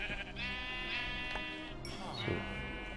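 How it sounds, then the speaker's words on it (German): Sheep bleating in Minecraft on PS4, a few wavering bleats rising over a continuous dense bed of game music and background sound, with a voice talking faintly. "Hey, hier sind Schafe."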